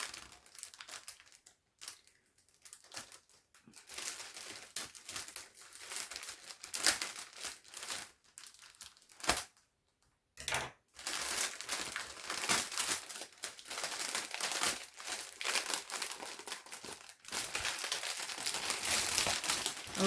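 Paper and tape torn and crumpled while unwrapping a gift, close and continuous crinkling in bursts with short pauses, rustling rising and falling over twenty seconds.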